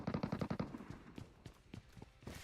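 SMG gunfire in the mobile battle royale game PUBG Mobile, a fast rattling burst of shots followed by scattered single cracks and shorter bursts, fairly faint and close.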